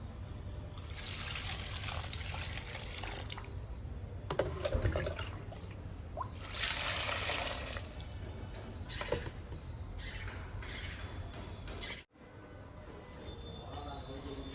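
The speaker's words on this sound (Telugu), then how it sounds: "వాటర్ ఇస్తున్నా" Water trickles and splashes softly as it is poured onto potted indoor plants, an uneven stream with intermittent gurgles and light background noise.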